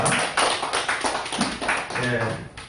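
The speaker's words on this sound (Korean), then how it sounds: "박수로 환영하겠습니다" A congregation at a church service marking a seafarers' mission anniversary claps steadily in a dense, continuous round of applause filling the room, with voices mixed in underneath.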